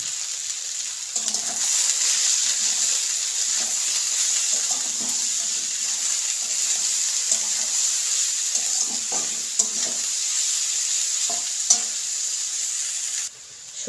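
Vegetables for homemade egg chicken chowmein fry in a pan, a steady bright sizzle throughout with repeated soft scrapes and taps of stirring, fairly close, no voices.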